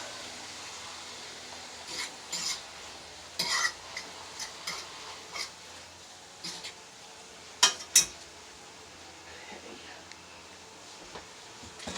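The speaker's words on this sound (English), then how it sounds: "I'm going to cook that until my onions become translucent. My green peppers soften up." Onions and green peppers sizzle steadily in a pan on low to medium heat, with scattered utensil scrapes and stirring clinks over the constant frying hiss.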